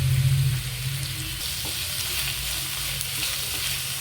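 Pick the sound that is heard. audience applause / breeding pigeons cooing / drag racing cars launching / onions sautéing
onions sautéing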